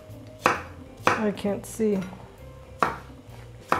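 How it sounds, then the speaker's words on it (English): Garlic is crushed in a kitchen while cooking a Polish wild game stew, giving several sharp knocks and clatters of utensils against a board or pan, with brief speech between the hits. "So I'm just crushing my garlic a little bit."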